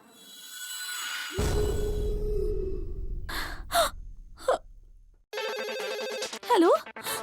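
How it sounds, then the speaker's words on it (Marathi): Telephone ringing in a Marathi TV comedy scene, with bursts of electronic ringing toward the end, preceded by a sharp gasp, a sustained musical tone and short vocal sounds. "हो एक काम कर, राजाला फोन कर"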